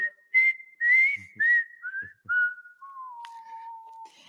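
A person whistles a tune of short bright notes with small pauses, ending on a long steady falling note, with faint thumps underneath.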